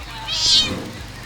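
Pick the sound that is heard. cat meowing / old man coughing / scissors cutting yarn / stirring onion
cat meowing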